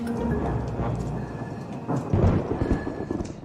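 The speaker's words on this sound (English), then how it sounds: "And there's thunder." Thunder rumbles during a house renovation, a continuous deep rolling boom that swells near the end, with rain hissing underneath and no talking.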